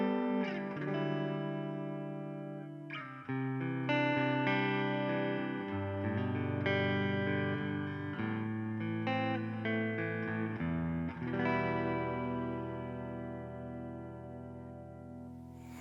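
Clean tone from the P90 neck pickup of a Gretsch electric guitar, ringing chords and single notes played in a steady, warm phrase, loud and close with no talking.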